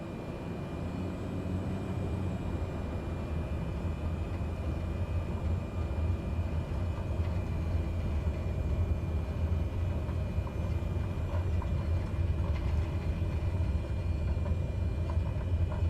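A Cessna 208 taxis toward the runway in a flight simulator, its turboprop giving a steady, low, droning hum that holds constant throughout.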